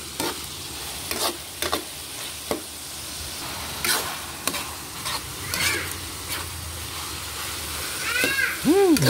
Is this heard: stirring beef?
yes